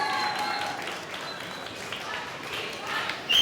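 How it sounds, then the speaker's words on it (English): An audience at a chocolate tablet competition round gives a round of applause, a dense wash of clapping that swells at the end, with a voice talking over it. "a big round of applause"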